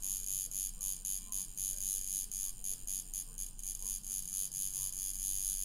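Tattoo machine buzzing steadily as needles work color ink into skin, a faint electric hum with a rapid pulsing texture that keeps running throughout.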